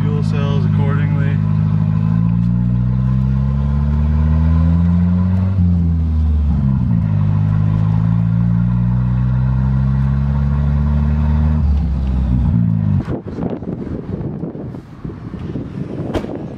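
A drift car engine under way, its harmonics rising and falling through gear changes for about twelve seconds, steady and loud with wind noise. Near the end it breaks into rougher revving as a voice speaks.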